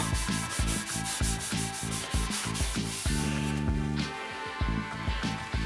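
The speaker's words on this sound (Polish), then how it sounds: "No zobaczycie, jak pasta ładnie ściąga stal." Steel exhaust tip from an Audi 80 being polished with polishing paste, a steady rubbing and scrubbing sound with rhythmic back-and-forth strokes, loud and close, no talking.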